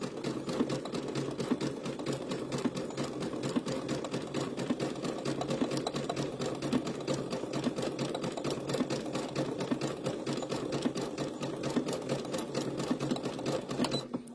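A sewing machine runs steadily, stitching white thread over lace on a Sunbonnet Sue quilt block, with a fast continuous rhythmic needle chatter held at an even, close level throughout.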